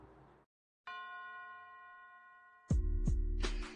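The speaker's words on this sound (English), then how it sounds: "Did you hear those church bells in the audio segment just now?" Church bells heard in a played audio segment, a clear ringing strike with a long sustained tone, followed by several louder clanging strokes in quick succession, with no speech.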